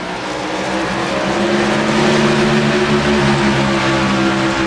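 Race cars roar around the Richmond track in an RRO DG Verttech Cup race. Loud, steady engine drone with a rising pitch and a faint squeal of tires runs throughout, close and continuous.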